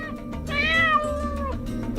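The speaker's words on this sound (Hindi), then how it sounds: "अरे मुझे बिल्ली की आवाज आ रही है।" A single drawn-out cat meow, clear and fairly close, rising then falling over a low steady background hum.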